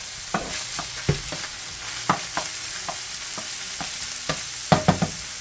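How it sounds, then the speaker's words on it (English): Ground hamburger meat browning in a hot pan, a constant sizzle punctuated by frequent clacking stirs and scrapes of a utensil, close and clear with no voices. "let's go ahead and get this hamburger cooking up so I can add the onion to it"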